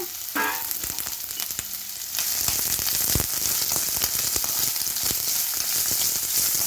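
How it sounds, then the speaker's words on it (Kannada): Onion, garlic, green chillies and coconut fry in a pan for bitter gourd gojju, a continuous close hiss that swells louder after a brief clink, with no talk. "ಒಂದು ಈರುಳ್ಳಿ ಒಂದು ಗೆಡ್ಡೆ ಬೆಳ್ಳುಳ್ಳಿ ಒಂದು ಮೂರು ಹಸಿರು ಮೆಣಸಿನ್ಕಾಯಿ ಸ್ವಲ್ಪ ತೆಂಗಿನಕಾಯಿ ಇದನ್ನು ಫ್ರೈ ಮಾಡ್ಕೊಳ್ಳೋಣ"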